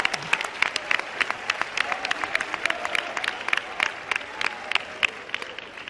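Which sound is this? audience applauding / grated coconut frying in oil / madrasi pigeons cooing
audience applauding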